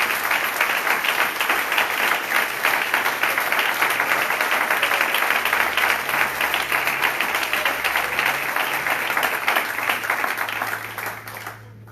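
A church congregation applauds during worship with steady, loud, dense clapping that runs continuously and fades slightly near the end, with a low organ or keyboard note sustained underneath.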